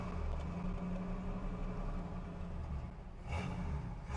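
A 1966 Ford Mustang with a throaty exhaust idles in a low, steady rumble, with a brief rise in intensity near the end.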